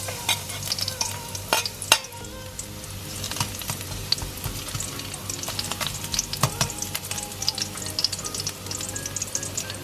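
Garlic sizzles in a preheated pan for pork menudo, a steady frying hiss heard up close, with scattered clinks and scrapes of stirring and no talking.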